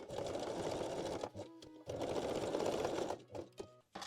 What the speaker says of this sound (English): Then we can also secure the strap loops with the straight stitch.